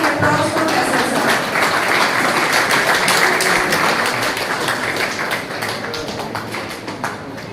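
An audience at a college alumni meet gives a long round of applause for an honored hospital director, dense steady clapping that stays loud throughout and thins slightly toward the end.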